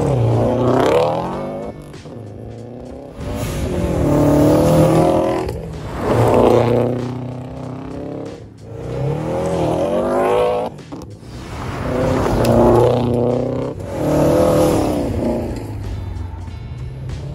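A 2016 Subaru WRX STI is driven hard, its engine revving up through several strong accelerating pulls that rise and ease off in a repeating rhythm, loud and close throughout.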